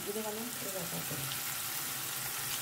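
Boiled chickpeas go into a hot pan and sizzle with a soft, even frying hiss, faint and steady, while a voice speaks briefly at the start.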